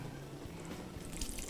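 Measured cup of cold water being poured while preparing a vegan recipe, a soft steady liquid trickle and splash, quiet and continuous with a slight rise near the end.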